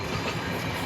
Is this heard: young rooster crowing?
no